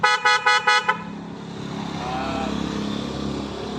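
Four quick, loud Honda Wave 125 motorcycle horn beeps in a row, then the steady rumble of an idling engine.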